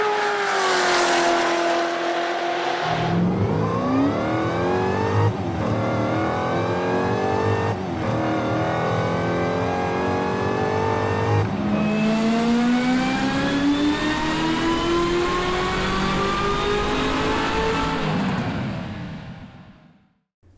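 A Corvette ZR1 supercharged V8 with titanium connecting rods and lightweight aluminum pistons revs loudly and continuously, climbing through several rising pitch sweeps with brief gear-shift dips, close and alone until it fades at the end.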